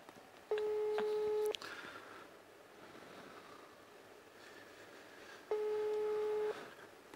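A telephone line gives a steady tone burst, a pause with faint background noise, then another identical tone about four seconds later, heard clearly with no speech.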